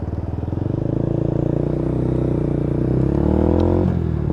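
A Lexmoto Tempest motorcycle engine runs during a low-speed test ride, a loud, steady, rumbling pulse with a slowly shifting pitch and no talking.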